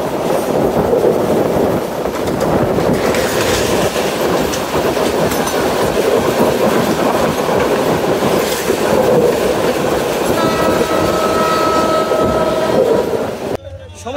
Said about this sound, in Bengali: নরসিংদী রেল স্টেশন ছেড়ে দিল কিশোরগঞ্জ অভিমুখী 11 সিন্ধুর প্রভাতী এক্সপ্রেস